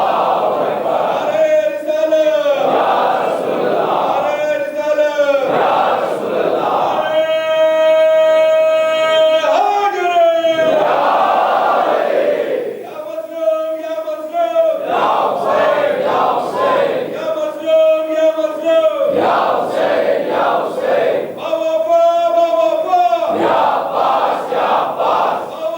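During a Muharram majlis, a large crowd answers a leader's calls with loud, rhythmic religious slogans. The voices come in repeated call-and-response bursts, with strong massed shouts filling the hall for the whole stretch.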